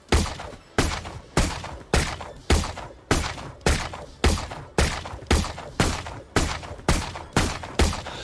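Gunfire from the video game Valorant aimed at a pole: about fourteen sharp, loud single shots at a steady rhythm roughly every half second, each with a short tail and no talk over them.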